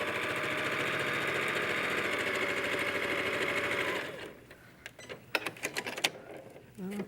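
A sewing machine runs steadily and up close as quilt pieces are sewn together, a dense, even stitching hum for about four seconds before it stops, followed by light handling clicks and rustles.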